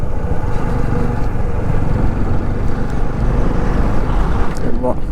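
A motorcycle rides a mountain road in Ladakh, with a steady, loud engine and road rumble running throughout, close and continuous.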